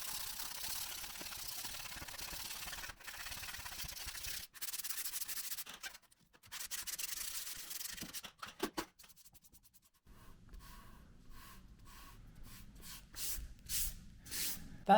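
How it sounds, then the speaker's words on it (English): Dried quick-dry filler on a ceiling hole repair is sanded by hand in bursts of close, raspy rubbing strokes, broken by short pauses, with quicker scuffing strokes near the end. "it sanded down really well"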